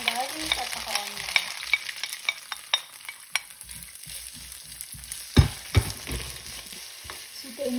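Garlic and onion sauté in a pan, with scraping stirs and scattered clicks of a utensil over a light sizzle, busier at first and then quieter with a few sharper knocks.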